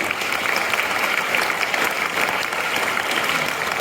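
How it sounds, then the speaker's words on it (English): Students at a CBSE school mock assembly give a sustained round of applause, dense steady clapping from a large group heard at moderate distance. "Can we thank our sir with a great round of applause"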